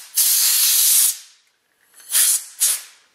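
A CO2 dust-off spray blasts into an airsoft gas magazine during cleaning: one long, loud, close hissing burst of about a second, a pause, then two shorter sharp bursts in quick succession.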